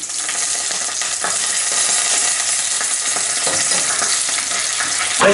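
Oyster mushrooms fry briskly in butter and oil, a loud, dense, continuous sizzle with occasional clicks of stirring utensils, close up and without talk.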